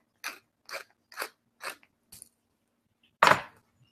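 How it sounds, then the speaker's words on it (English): Five quick crisp crunches of whole black peppercorns being ground in a pepper mill, evenly spaced and close, then a brief pause and one louder, fuller crunch. "we're going to put some fresh ground black pepper in there"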